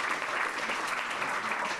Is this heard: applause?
yes